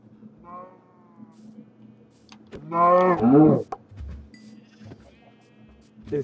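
Minecraft cows are hurt during slaughter in the game, with short bleating moos and a louder, strained lowing burst in the middle, mixed with game clicks and hits over a low background hum.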